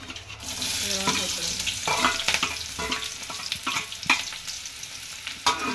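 Oil sizzles steadily in a pan with mustard seeds, onion and curry leaves for tempering, stuffed eggplant frying, with repeated clinks and scrapes of a stirring spoon over a constant close frying hiss.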